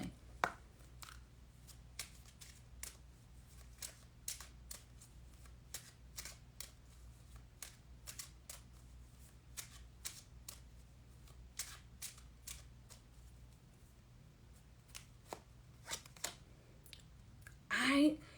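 A Kipper tarot card deck is shuffled over and over in a soft, steady run of papery flicks and clicks, close but quiet, ending in a louder flurry of riffling.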